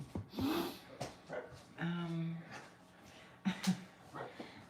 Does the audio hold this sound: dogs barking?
yes